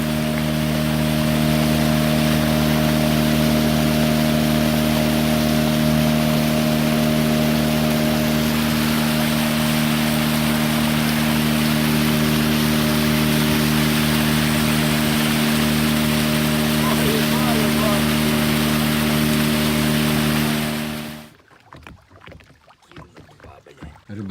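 A motorboat engine drones steadily and loudly close by on an early-morning fishing trip for bream, a constant humming tone that cuts off abruptly near the end, leaving quieter ambient sound.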